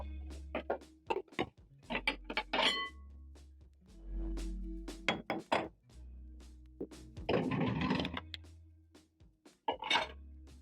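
Kitchen handling sounds as a bowl is picked up and moved, with a series of close, irregular clacks, knocks and scrapes of dishware against a counter, including one longer rattling scrape, alone with no talking.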